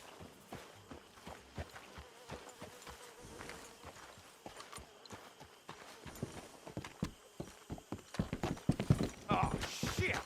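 Horse hooves clip-clop on the ground in Red Dead Redemption 2, with irregular, close footfalls growing louder and busier toward the end over a faint buzzing background, with voices talking at times.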